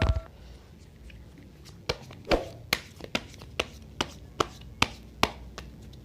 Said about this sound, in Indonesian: Oke, saya kocok ya, kocok lagi.